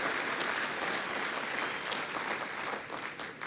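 A church congregation applauds, steady broadband clapping from many hands throughout, moderately loud and even, with no voice rising above it.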